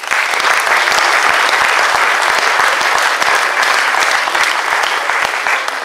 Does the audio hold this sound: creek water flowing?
no